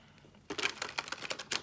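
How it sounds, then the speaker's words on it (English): Tarot cards being shuffled by hand, a quiet pause followed by a run of quick, close riffling snaps and soft card-on-card slaps in an irregular rhythm, with no talking. "I'm going to shuffle one more time."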